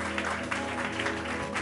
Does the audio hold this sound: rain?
no